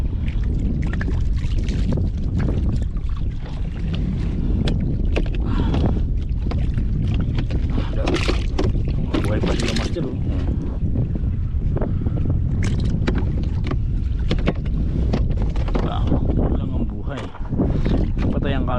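Strong wind buffets the microphone in a constant roar with gusty surges, and a voice speaks underneath.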